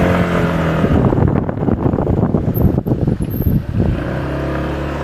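A Skygo Bolt 150 motorcycle rides past with engine drone and gusting wind buffeting the microphone, the engine note rising and falling through quick turns, loud and close throughout.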